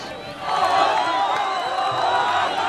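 A huge crowd in Egypt erupts in ecstatic cheering, a loud, continuous roar of many voices with shouts and whoops rising out of the mass.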